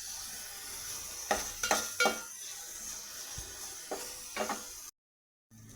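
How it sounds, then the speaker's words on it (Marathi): Tomatoes fry in a pan for a red amaranth leaf dish, with a steady soft sizzle broken by a few clustered scraping stirs and clinks of a spoon against the pan, then a brief drop to silence. "टमाटीला पण छान परतून घेऊया आणि शिजवून घेऊया छानपैकी"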